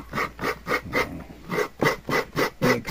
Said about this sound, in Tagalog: Ito ay magkakayod ng nyug.